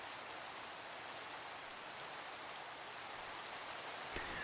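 Rain falling in Minecraft, a steady, soft hiss of dense drops throughout, with a brief faint tick near the end and no talk.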